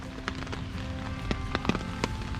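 Rain falling in a cemetery in Lexington, Kentucky, a steady soft patter with scattered sharper drops landing on nearby surfaces.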